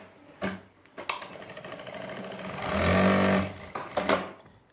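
A sewing machine runs in short stitching bursts, then one longer steady run, as it sews the seat seam of a garment back piece; the whirring stops and restarts a few times, close and fairly loud, with no talking.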